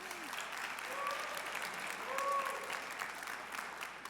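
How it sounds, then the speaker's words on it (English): A crowd claps during the Seattle mayor's State of Downtown address, a steady wash of applause that swells slightly midway and holds at moderate loudness, with a few faint tones mixed in. "And you can clap for that."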